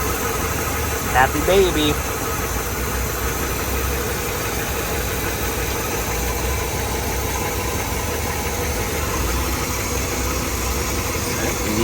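A 1966 Chevrolet El Camino with a freshly replaced carburetor idles steadily, a constant low rumble with a slight knocking pulse, while a voice speaks briefly near the start.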